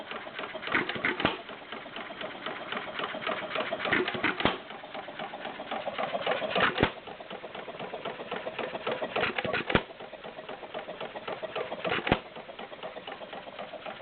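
Stover CT-2 hit-and-miss engine running at about 500 RPM: a steady, fast mechanical clatter broken every few seconds by a sharper firing bang, heard close and alone.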